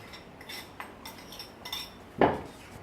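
A spoon pressing and crushing strawberries simmering in a pot of strawberry juice for a panna cotta sauce, several soft scrapes followed by one sharper metallic knock against the pot.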